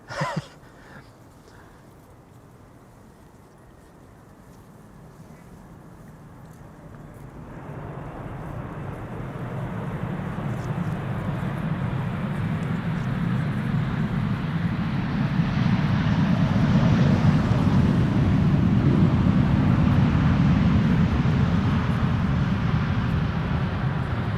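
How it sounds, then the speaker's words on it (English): An Emirates Airbus A380 lands with near idle reverse thrust, its broad jet roar swelling steadily from a faint start into a loud, sustained rumble and whoosh over most of the clip, heard outdoors at an airport. "this was going to be a near idle reverse landing"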